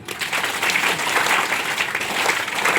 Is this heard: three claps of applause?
yes